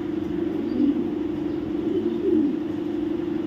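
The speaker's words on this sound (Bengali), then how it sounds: "এখানে দেখাবো আরেকটা ব্লুবার রেসার মাদি কবুতর" A young blue bar racer hen pigeon cooing nearby, with soft, low, throaty coos swelling twice over a steady hum.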